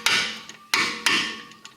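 Three sharp metallic hammer taps on brake hardware while fitting rear brakes on a Hyundai, each strike close and ringing briefly before fading, spaced roughly half a second apart.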